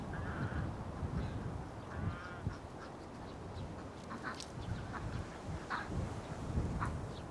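Ducks quack off and on across a noisy village farmyard in rural Fuyu County, with other livestock about, their calls fairly faint against constant outdoor background bustle.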